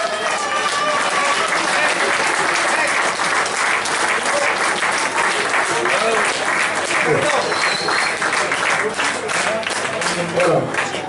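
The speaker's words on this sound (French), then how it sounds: "applaudissez-les bien fort" Audience clapping loudly for a group of performers, a dense, sustained round of applause with crowd noise and voices mixed in, steady from start to finish.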